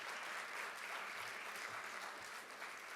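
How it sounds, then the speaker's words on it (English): A steady, dense round of audience applause at an award ceremony, many hands clapping continuously at a fairly distant, even level. "I want to give everybody a round of applause from me to you"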